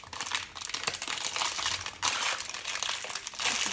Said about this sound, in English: So I'm going to open this and start cutting.